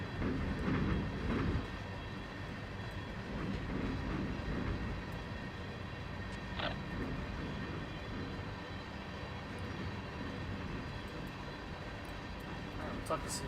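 In the Run 8 train simulator, Metrolink 701 pulls away with a low, steady rumble that is strongest at the start and then settles into a continuous hum, with faint voice-like sounds in the mix.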